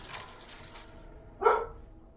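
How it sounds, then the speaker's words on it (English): A single short dog bark rings out sharply after a stretch of low background noise, fairly close, in the video game Dragon Age: Origins. "What are you barking at?"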